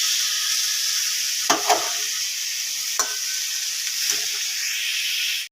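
Ginger and green chili paste sizzles steadily in hot oil with potato and banana flower, a close, continuous frying hiss broken by a few brief stirring scrapes, with no talking.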